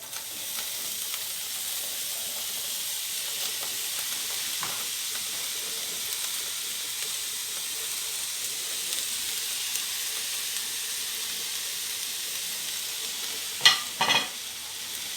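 Steady sizzling of chopped vegetables frying in hot olive oil for spaghetti bolognese, a dense continuous hiss with a couple of brief stirring clatters near the end.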